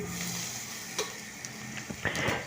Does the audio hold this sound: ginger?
yes